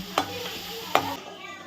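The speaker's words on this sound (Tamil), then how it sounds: "இது நல்லா கோல்டன் கலரில் வரா மாதிரி ஃப்ரை பண்ணணும்." Ginger garlic paste fries in a pan while being stirred to turn golden, with two sharp scraping stirs over a low, steady sizzle.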